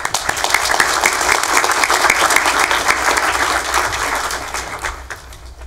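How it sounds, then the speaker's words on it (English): At a college Charter Day ceremony, an audience applauds returning members as they stand, giving loud, dense, continuous clapping that holds steady and then tapers off toward the end. "ask them to please stand for applause"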